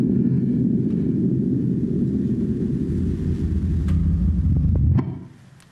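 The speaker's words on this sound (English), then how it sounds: "That was the sound of two black holes colliding." Sonification of two black holes colliding, built from scientific waveform data: a deep, continuous rumbling roar that swells slightly, then drops away abruptly near the end.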